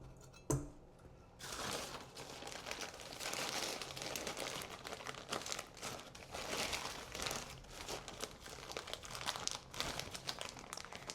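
A plastic bag of dark brown sugar crinkled by hand, a sharp thump followed by continuous close rustling and crackling, quiet and without speech.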